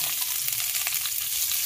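Chopped onion sizzling in hot mustard oil with nigella seeds, a dense, steady hiss of frying close up, with no voices over it.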